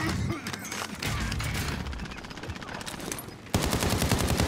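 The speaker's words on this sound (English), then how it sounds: "Oh, I'm being shot at from below." Rapid bursts of automatic gunfire in a multiplayer shooter video game, loud and continuous for the whole stretch, with a louder, denser volley near the end.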